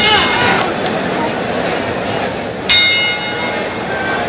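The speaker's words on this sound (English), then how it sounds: "The bell for round 4." Boxing ring bell for round 4 in the Jimmy Young vs George Foreman fight: a single bright clang cuts through loud arena crowd noise near the end.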